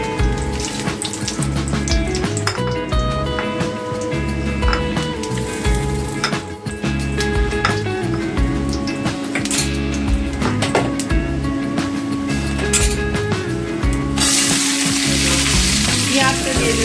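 Whole garam masala sizzling in hot oil for a Bengali rohu fish head rice ghonto, a loud continuous crackle and hiss with stirring clatter and some running water, steady throughout.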